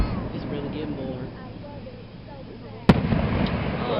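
Fireworks bursting at a July fireworks show in Tri-City, Kentucky: a distant rumble of crackling pops gives way to one sharp, loud boom near the end, with people chatting nearby throughout.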